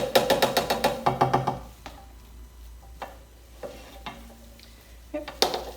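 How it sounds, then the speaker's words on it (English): Diced onion drops into melted butter in a pan, giving a rapid burst of clattering hits and then a faint, steady sizzle with occasional spoon taps against the pan. "Butter is melting, so we're going to go in and drop in our onion"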